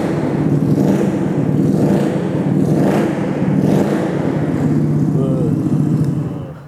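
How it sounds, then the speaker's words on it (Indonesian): A small custom motorcycle engine is blipped repeatedly up close, loud throaty revs swelling and falling several times over a continuous rumbling idle, with a voice briefly audible beneath. "Kita coba geber-geber dikit ya."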